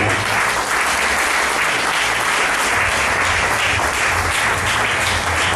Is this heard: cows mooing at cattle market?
no